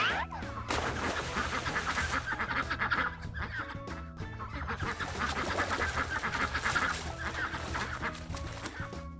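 A flock of ducks quacks and honks nonstop while eating bread, dense overlapping calls close at hand with a brief lull midway.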